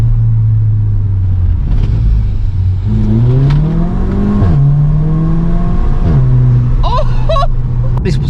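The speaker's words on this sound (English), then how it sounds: "sport actually makes the DSG noise a lot louder" A Volkswagen Scirocco with a DSG gearbox in sport mode, its engine droning loud and close inside the cabin, revving up through rising tones, dropping on a shift, then holding a steady hum with brief crackles near the end.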